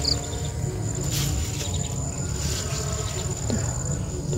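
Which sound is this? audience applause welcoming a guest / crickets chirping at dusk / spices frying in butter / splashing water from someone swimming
crickets chirping at dusk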